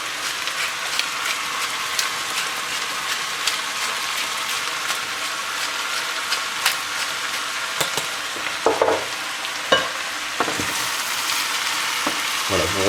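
Ingredients sizzle and soften in a pan while being stirred for a duck confit parmentier, a dense, continuous frying hiss with occasional scrapes and clicks of the spoon, close and steady throughout.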